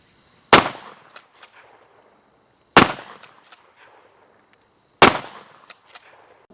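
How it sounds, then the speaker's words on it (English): Three loud, sharp shotgun blasts from a Remington 870 Police Magnum with a 20-inch barrel firing Winchester Super-X buckshot, evenly spaced about two seconds apart, each followed by a short echoing decay outdoors. "first shots are going to be from 10 yards using my Remington 870"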